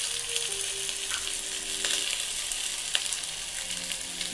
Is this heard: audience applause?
no